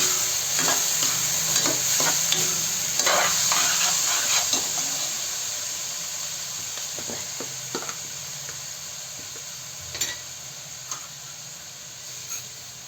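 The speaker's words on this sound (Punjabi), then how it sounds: "ਤੇ ਨਾਲ ਹੀ ਆਪਾਂ ਸੇਮੀਆਂ ਪਾਵਾਂਗੇ ਗੈਸ ਦਾ ਫਲੇਮ ਆਪਾਂ ਘੱਟ ਕਰ ਦਵਾਂਗੇ" Wheat vermicelli stirred and fried in a pan over a lowered gas flame, a steady close sizzle under frequent scraping and clinking stirs.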